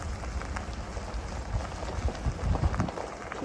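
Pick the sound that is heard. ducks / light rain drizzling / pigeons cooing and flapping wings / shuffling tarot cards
light rain drizzling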